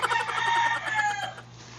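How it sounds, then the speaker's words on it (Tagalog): A rooster crows once in the background, a long, loud, wavering call that fades out over a quiet room hum, with no talk. "At least dili boring akong video kay manok sa background"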